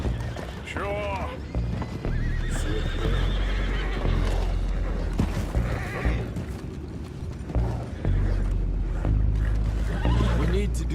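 Horses whinny and neigh repeatedly amid clip-clopping hooves, with a steady low rumble and voices talking underneath throughout, from the video game Red Dead Redemption 2.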